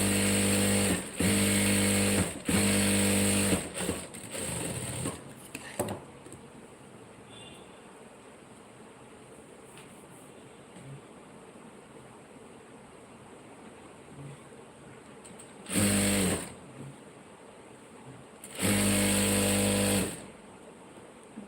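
Sewing machine stitching the lining of a blouse, loud bursts of fast stitching in short runs, then a long quiet pause before two more runs near the end.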